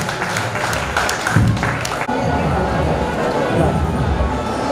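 Applause from an audience at a gathering: a broad, steady wash of clapping that keeps going for the whole stretch without a break.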